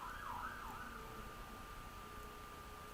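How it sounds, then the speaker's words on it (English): A police car siren wails in the distance near a residential area close to a fire station, rising and falling briefly before settling into a faint, steady tone over low background hum. "that sounds like a police car."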